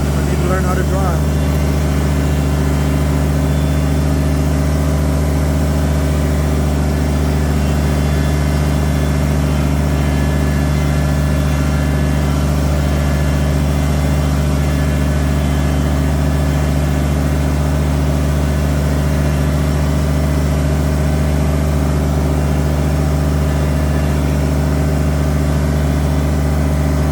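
A Kubota tractor drives along a forest trail, its engine a steady, unbroken drone that holds for the whole stretch, with a voice over it.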